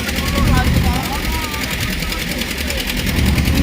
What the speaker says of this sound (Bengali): ও নৌকাটা পারাপার হচ্ছে